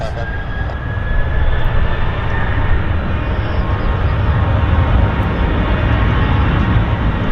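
A loud, steady airplane engine roar with broadband rumble as the aircraft rolls along the runway for takeoff at Vancouver Airport, close by and continuous.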